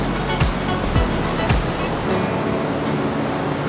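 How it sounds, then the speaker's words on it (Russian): A waterfall in Turgen, Kazakhstan roars in a constant, full-bodied rush of falling water, close and loud, with a few brief louder splashes early on before it settles into an even torrent. "Это один из самых красивых водопадов, потому что вода падает нужным образом."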